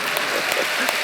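A brief burst of congregation applause inside a church during a Friday night service, dense steady clapping filling the space.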